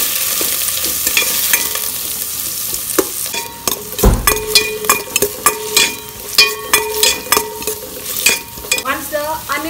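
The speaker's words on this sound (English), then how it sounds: "Fry in the chopped onion." Chopped onion frying in about two tablespoons of oil in a kadai, with a continuous sizzle and repeated clinks and scrapes of a utensil stirring, close and loud, with no talk.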